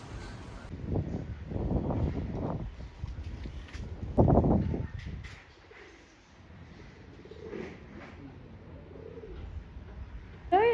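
Pigeons coo in several soft, throaty bursts at close range, with quieter stretches between and a few faint chirps from other birds.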